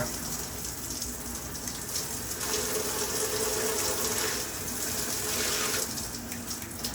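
A hotel bathtub shower runs with a loud, steady rush of spraying water that swells briefly in the middle, heard close and without talk.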